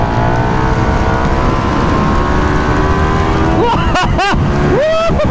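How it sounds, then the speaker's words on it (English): A KTM 1390 Super Duke R EVO motorcycle on a race track holds a loud, close engine drone, then revs sharply several times with rising and falling pitch as it lifts into a stand-up wheelie. "Let's do a little stand-up wheelie this time for the photographers."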